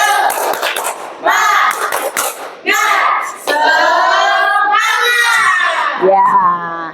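A group of children in a classroom doing a spirited clapping chant, loud shouted syllables in bursts with hand claps between them, close and energetic.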